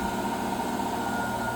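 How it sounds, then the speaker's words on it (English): A washing machine runs in the master bathroom of a 2016 Forest River Berkshire 38A motorhome, making a brief, steady low mechanical hum with no talking. "the washer is currently running"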